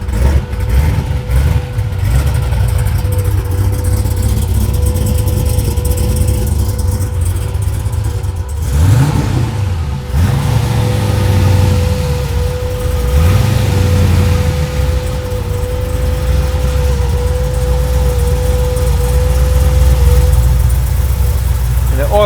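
A turbocharged V8 van engine idles with a deep, steady rumble and is revved a few times, loud and close, with a slightly noisy oil pump and brief speech over it.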